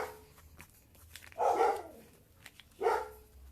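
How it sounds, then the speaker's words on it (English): Two separate dog barks sound from a short distance, spaced apart over a low background hiss. "Sorry about those loud, obnoxious dogs."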